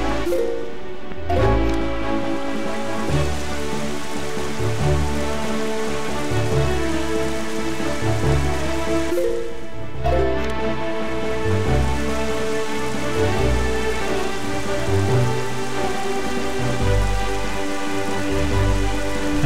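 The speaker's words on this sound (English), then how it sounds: "A bad storm." Steady heavy rain pours down in a storm at sea in The Legend of Zelda: The Wind Waker, a dense continuous hiss layered over a looping musical score.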